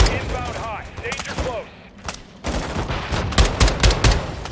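Gunfire crackles through a Call of Duty Modern Warfare 2 battle, with rapid bursts of shots growing denser and louder toward the end, mixed with explosions and brief in-game radio chatter.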